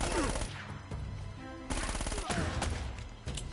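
Rapid gunfire from a weak firearm in Uncharted: Drake's Fortune, loud bursts of close shots cracking in quick succession with brief pauses between volleys, layered over game ambience.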